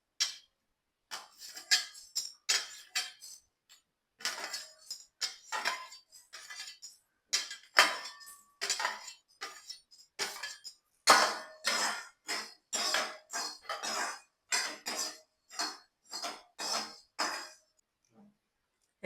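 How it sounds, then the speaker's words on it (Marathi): Whole garam masala and coriander seeds dry-roasting in a pan, heard as spaced scrapes and metallic clinks of a spatula stirring against the pan in an otherwise quiet kitchen. "एक एक करून मी सर्व गरम मसाला भाजत आहे। धने भाजत आहे अगोदर।"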